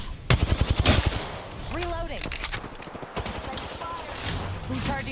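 Rapid automatic gunfire bursts in an Apex Legends match, loud and close, with a player talking and shouting over the shots and other game sounds.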